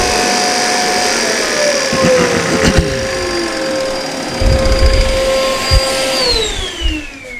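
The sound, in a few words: power tool disc sanding wooden Scrabble sign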